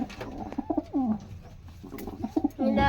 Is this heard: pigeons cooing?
yes